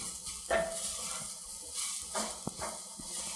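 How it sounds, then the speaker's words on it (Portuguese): Rice sautés and is stirred in a pan, giving a steady hiss of frying with scattered scraping and clinking of a utensil against the pan, all at moderate loudness and without talk. "É legal refogar mexendo, tá? Pra ele não grudar."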